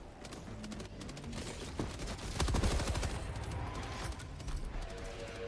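Rapid video game gunfire in BONK: dense bursts of automatic shots and overlapping fusillades rattle continuously for several seconds, fairly loud and close.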